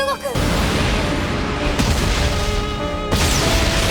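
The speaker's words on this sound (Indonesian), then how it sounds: "pukulan Ugo pada tubuh Judal menghasilkan ledakan yang cukup kuat" Loud anime explosion from Ugo's punch landing on Judal: a dense, sustained blast with crackling debris that fills nearly the whole moment, then cuts off abruptly.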